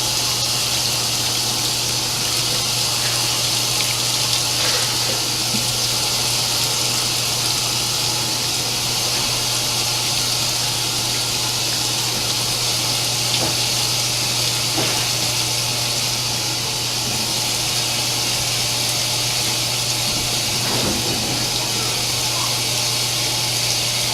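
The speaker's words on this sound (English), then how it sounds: "I'm going to turn the cold water up a little bit more, give me a little bit more water pressure." Cold water runs from a tap at increased pressure, a steady, close hissing gush with no break in flow and faint knocks in the background.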